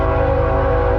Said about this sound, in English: I hate you, train.